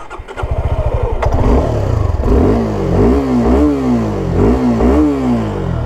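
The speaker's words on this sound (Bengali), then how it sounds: "আচ্ছা, বাইকটা স্টার্ট করা যাক।" A Suzuki Gixxer SF 250 motorcycle cranks over and catches, its engine then settling into a strong, steady run with several rhythmic throttle blips through a dual-barrel exhaust, close and loud.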